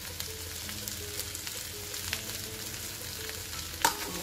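A fasting bhaji with ghee, crushed peanuts and chopped coriander fries in a pan over low flame, giving a soft, steady sizzle with faint stirring and a brief clink near the end.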